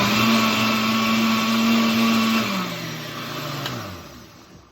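An electric blender whirs loudly, mixing paper pulp for comic book leaf casting, a steady close motor drone that slows and winds down toward the end.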